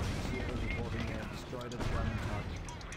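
An anti-tank gun fires in the war game Company of Heroes, its heavy booms blended into a dense, continuous roar of battle noise and other gunfire.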